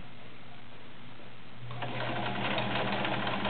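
A vintage Kenmore Model 1601 sewing machine idles in a faint hum, then starts stitching with a fast, steady mechanical chatter that grows louder over the last two seconds, with no talk.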